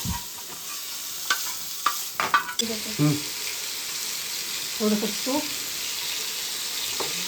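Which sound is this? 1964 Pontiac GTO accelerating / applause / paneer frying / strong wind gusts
paneer frying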